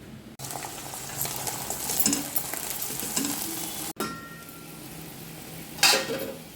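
Ivy gourd frying in a pan with chilli powder, giving a steady moderate sizzle with occasional utensil scrapes and a brief louder burst near the end.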